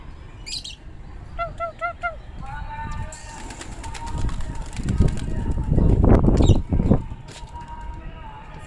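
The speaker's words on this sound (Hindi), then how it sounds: "तो फ्रेंड्स हमने दोबारा अपने कबूतर जो हैं वो उड़ाए हैं।" A flock of black desi Gandedaar pigeons is released. A few short chirping calls come first, then a rising, loud flurry of flapping wings that swells and fades as the birds take off, with voices faintly in the background.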